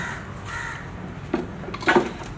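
A crow gives two short, harsh caws near the end, close and fairly loud, after a moment of quiet background.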